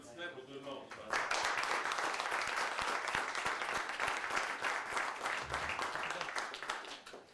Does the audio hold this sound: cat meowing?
no